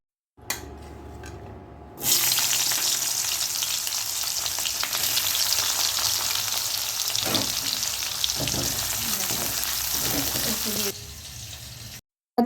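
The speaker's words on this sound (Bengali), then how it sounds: "তেলটা ভালো করে গরম করার পর তারপরে কিছুটা পেঁয়াজ কুচি ওর মধ্যে দিয়ে দিল ওটাকে এখন ভাজা ভাজা করবে" Chopped onion sizzling in hot oil in a wok, a steady loud frying hiss that starts abruptly and runs continuously with a few stirring scrapes before cutting off.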